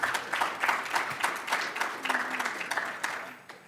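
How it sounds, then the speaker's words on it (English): Applause at a Center of Excellence designation event, a moderate crowd clapping in an uneven patter, fairly quiet and a little distant, with faint voices beneath. "she does deserve a second round of applause"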